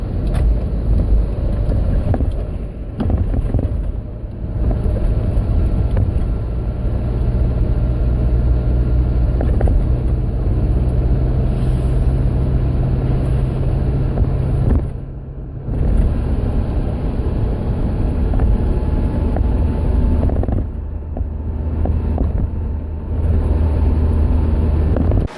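A manual-transmission car's engine drops in revs while driving down a back road, a steady low rumble that holds loud and near for most of the stretch, broken by a few brief dips as the drive goes on.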